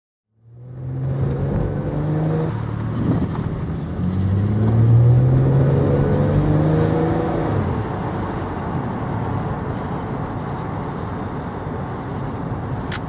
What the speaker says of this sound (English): He notices a car driving by at 3 a.m.